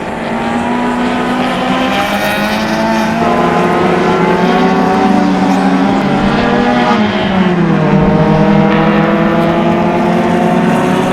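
Closed wheel race cars, among them a brown Acura and a CRX, race at Mission Raceway, a loud steady engine howl with rising and falling pitch sweeps as cars shift and pass, no talk.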